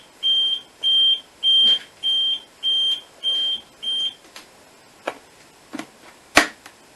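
An Arkeon fire alarm panel on a training setup signaling a detector fault, with seven evenly spaced high electronic beeps, followed by a few clicks and one sharp snap, close and without talk.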